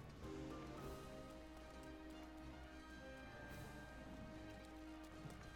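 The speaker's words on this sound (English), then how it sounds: "I just have to wait for the rain to stop" Steady rain falls in a Zelda game, a soft continuous patter on surfaces layered with faint game music and ambience, quiet and unbroken.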